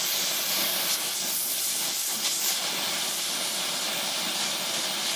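Blowtorch flame heating a nut to loosen it from a stud while replacing a Dodge Ram 1500 power steering pump, a steady, close, broadband hiss and roar that holds evenly throughout with no pauses.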